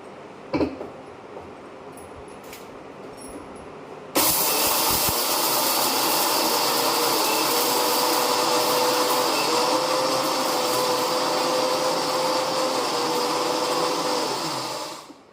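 An electric grinder switches on after a few quiet seconds and runs as a loud, steady whirring drone with a slight pitch shift midway, then winds down near the end.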